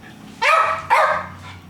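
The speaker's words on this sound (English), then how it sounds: "we have the dog that runs the house. He's decided to speak up at this point" A house dog lets out two sharp, loud barks close by, about half a second apart, followed by quiet with a faint low hum in a kitchen.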